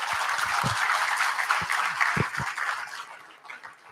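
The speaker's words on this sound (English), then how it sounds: "Let's have one more time a huge round of applause for Honorable Minister, sir." A conference audience claps for a minister, a broad roar of clapping that holds steady and then slowly fades toward the end, with a few low thumps mixed in.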